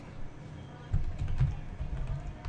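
Someone types a document on a computer keyboard in a steady run of soft, close keystrokes with a few louder taps, all quiet and continuous.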